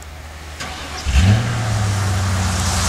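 Car engine cold start in sub-zero weather: a brief crank, then the engine catches with a loud rise and settles into a steady, rough idle, close up.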